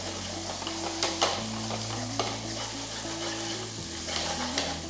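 Masala sautéing in oil in a pan for egg lababdar, a steady close sizzle with scraping stirs of a spoon against the pan, over a low steady hum.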